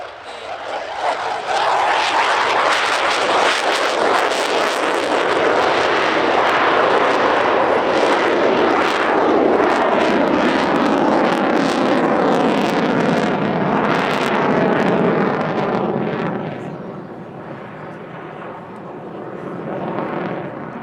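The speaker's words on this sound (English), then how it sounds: "FA-18C Hornet." Finnish Air Force F/A-18C Hornet jet performing at an airshow, a loud sustained engine roar that swells and holds before easing off toward the end, with an announcer talking over it.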